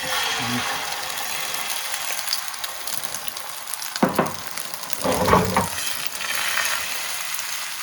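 A thin rolled omelette cooks slowly over low heat in a pan, giving a steady, close sizzle with a few louder scraping or stirring noises partway through.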